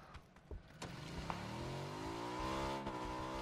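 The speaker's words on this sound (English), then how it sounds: "Another vehicle coming." A vehicle in PUBG drives past with its engine climbing steadily in pitch as it accelerates, growing louder over a few seconds after some scattered thumps at the start.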